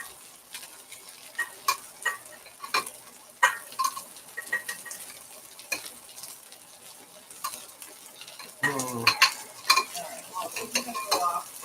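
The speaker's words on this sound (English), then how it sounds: "Chinese stir fry" Ramen noodle stir fry sizzles softly in a cast iron pan, punctuated by frequent scraping and tapping of a utensil, with a louder burst of sizzling near the end.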